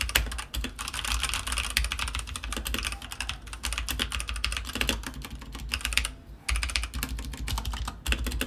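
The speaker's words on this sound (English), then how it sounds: "This is with brown switches and this one is with red switches." Rapid, steady typing on a mechanical keyboard with brown switches, set on a desk mat, close and clear with dense irregular key clacks throughout and no talk.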